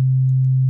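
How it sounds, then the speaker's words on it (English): A pure, steady sine wave tone at the note C2, near 135 Hz, holds at an even, loud level from start to finish with no other sound. "I'm playing a note at C2"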